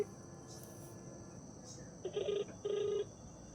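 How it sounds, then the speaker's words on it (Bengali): Two short electronic ringback tones heard faintly over a telephone line, with a low background hiss. "রিং হচ্ছে।"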